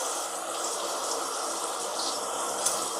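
Water pours steadily into a pot of rajma masala with turmeric, chilli and coriander-cumin, a continuous close gushing splash with no talk.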